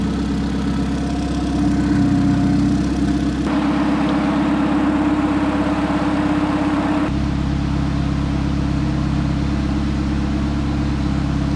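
A 1992 Honda Civic EG hatchback's 600 hp turbocharged engine idles steadily on E85, a constant low mechanical hum with a faint rhythmic pulse, close by and uninterrupted, with no voices.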